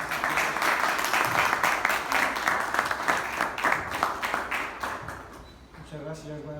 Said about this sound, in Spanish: yo les pido por favor que lo recibamos con un fuerte aplauso.